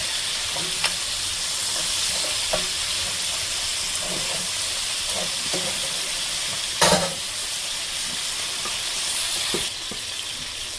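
Golda prawns fry in a pan with a steady, loud hiss and sizzle throughout, broken by occasional spatters and a sharp stirring clatter partway through.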